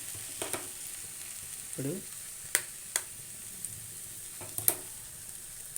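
Beaten egg sizzles and fries in a hot pan for an omelette, a soft steady crackle broken by a few sharp clicks of a utensil against the pan, with a brief voice.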